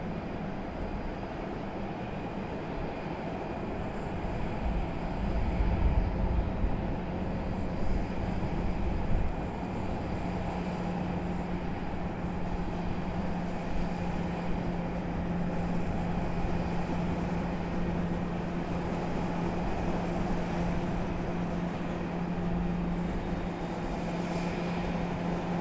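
An Airbus A319 arriving from Orlando at Raleigh-Durham airport gives a long, steady engine roar and rumble, moderately distant and constant, with no talking over it.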